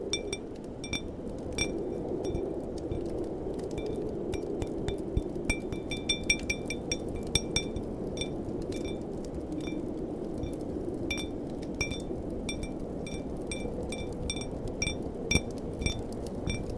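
A glass being clinked repeatedly, bright ringing taps scattered irregularly over a steady low background hum, each strike short and close.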